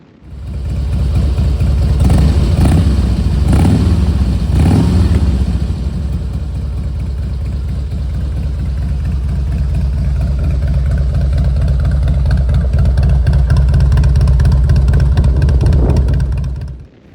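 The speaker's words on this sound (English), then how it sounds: "We also have fishtails on these pipes as well, and they sound really good." A Harley Davidson Heritage Springer with fishtail exhaust pipes rumbles loud and close, deep and steady, with a few throttle blips early on before settling into a sustained idle-like drone that cuts off at the end.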